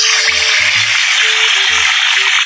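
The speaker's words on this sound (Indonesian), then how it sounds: "Goreng daging." Meat sizzles and crackles in a hot pan for a rendang, a steady loud frying hiss with soft clinks of utensils underneath.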